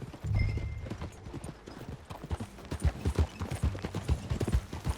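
Horse hooves in Red Dead Redemption 2 clip-clop in an uneven trotting rhythm, fairly close, with a low rumble near the start and a brief whinny-like sound.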